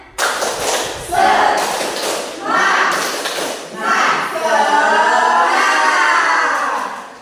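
Schoolchildren in a classroom do a rhythmic 'tepuk semangat' clapping chant, bursts of group clapping and thumps between loud chanted voices, ending in sustained group singing-like chanting.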